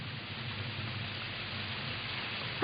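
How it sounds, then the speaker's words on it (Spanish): Steady rain falls throughout a battle scene in a children's Bible cartoon, a continuous soft hiss with a low rumble underneath and no voices. "Maldita lluvia."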